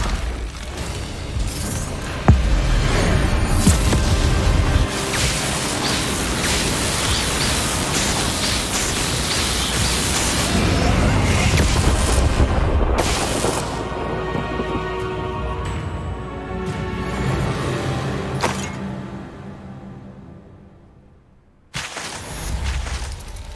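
A Confringo blasting curse explodes during a wizard duel in Hogwarts Legacy: a loud, sustained roaring boom with crackling debris rumbles for many seconds, fades, drops out briefly, then bursts back in.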